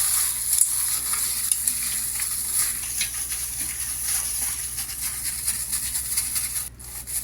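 Raw prawns are mixed by hand with rock salt, white pepper, squeezed lemon and chili powder, giving a continuous wet, squelching, hissing rustle close up, steady and without talk.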